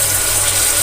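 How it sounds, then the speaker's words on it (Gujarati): Water poured in a steady, continuous rush into vegetables cooking in a pressure cooker on the stove, loud and close for just under a second, with no voices. "અડધા કપ કરતાં પણ ઓછું પાણી નાખવાનું છે"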